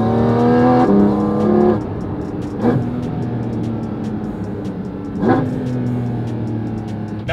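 A Porsche GT4 RS engine revs loudly and close up in sharp bursts. Each high-pitched blip falls away to a rumbling idle, and throttle stabs and crackles repeat several times.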